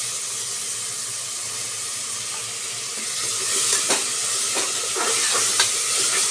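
Garam masala and yogurt stirred into a pan of masala for mutton biryani, with steady soft scraping and wet mixing sounds, clearer stirring strokes coming through in the second half, close by and without talk.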